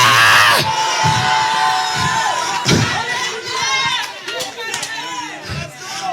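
Church congregation shouting and cheering together, a loud crowd roar with whoops and scattered voices rising and falling throughout, with speech mixed in.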